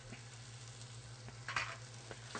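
Aromatics dusted with flour fry and sizzle gently in oil while being stirred and tossed in the pan, a steady soft hiss broken by a few light scraping stirs.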